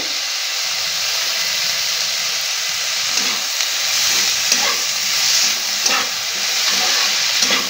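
A semolina mixture with coriander and curry leaves fries in a pan, giving a steady loud hiss and sizzle with occasional crackles and stirring scrapes, close by.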